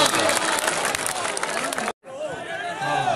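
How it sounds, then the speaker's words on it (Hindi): A crowd at a poetry contest bursting into loud applause, dense clapping mixed with cheering and babble, cut by a brief total silence before the clapping and crowd noise resume. "तालियां जोरदार तालियां"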